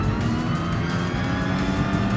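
Classic Formula race cars in Gran Turismo Sport scream around the Brazilian racetrack, a steady, dense engine roar with layered whining revs from several cars running close together.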